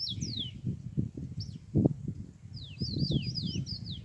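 Rufous-collared sparrow (tico-tico) giving short high whistled phrases, a few at the start and a run of repeated notes near the end, fairly close, over a low rumble of background noise.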